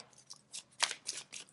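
Tarot cards being shuffled by hand, a series of short crisp riffling bursts at uneven intervals, close and moderately quiet, with no talking.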